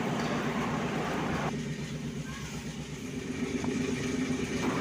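Steady rumbling roar of the Ernakulam–SMVT Superfast Express running fast near Thrissur, continuous low clatter and wind noise throughout with no voices.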